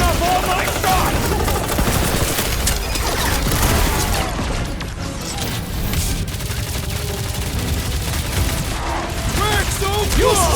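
Sustained automatic weapon fire and mechanical clatter from a Guardians of the Galaxy video game fight pour out without pause, loud and near, mixed with explosions and occasional character voices.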